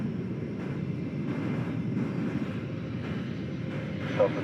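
An American Airlines Boeing 737-800 jet at DFW Airport gives off a steady, broad engine rumble, moderately loud and unbroken, with no voices.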